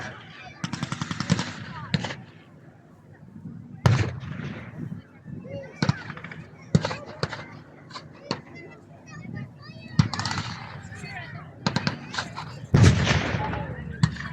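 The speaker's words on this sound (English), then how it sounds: "The advancing armoured vehicles and the artillery putting fire down." Guns and artillery firing at a battle reenactment show, with scattered sharp bangs and rattling bursts spread across the scene, some loud and close, others farther off, under an announcer's commentary.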